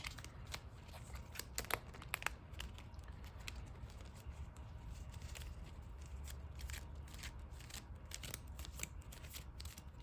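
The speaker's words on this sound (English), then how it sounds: "We're gonna shuffle." A Digimon trading card deck being shuffled by hand at a tabletop match, soft repeated riffling and flicking bursts, faint and close, with no talking over it.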